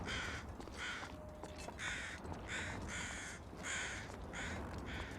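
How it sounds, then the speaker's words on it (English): Crows circle overhead in The Long Dark's foggy, open airfield terrain, giving a long series of about seven rasping caws at a steady pace, clear and fairly loud over a constant windy hiss, with no voices. "I think that's crows flying overhead"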